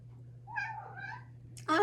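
A pet cat indoors gives two short, clear meows close by over a low steady hum, followed by a sudden burst of noise at the end.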